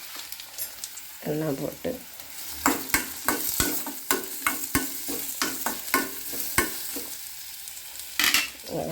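Chopped onion, ginger-garlic and green chillies fry in hot oil in a pan for cauliflower gravy, giving a steady close sizzle broken by a run of sharp spatula scrapes and clatters, with a few brief spoken words.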